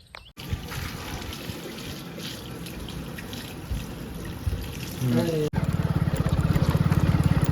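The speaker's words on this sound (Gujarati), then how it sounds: "અહીંયા પાણી જ ચાલુ છે" Irrigation water on a farm trickling and gurgling steadily, fairly close, growing louder toward the end with a rhythmic pulsing flow.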